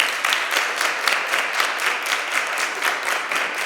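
An audience at a STEM careers event applauds, a steady round of many hands clapping with a faintly rhythmic pulse, moderately loud and without talk.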